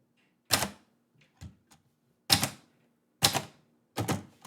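A typewriter used for poetry writing strikes keys in separate sharp clacks, four loud hits spaced about a second apart with a few fainter taps between, close and otherwise quiet.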